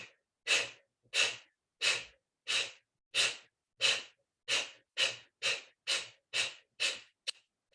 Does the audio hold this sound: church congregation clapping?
no